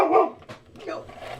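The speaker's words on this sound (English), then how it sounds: "Sorry about the dog barking." A dog barks nearby in a quilting room: a sharp bark up front, then a few fainter yaps, with a person's voice faintly underneath.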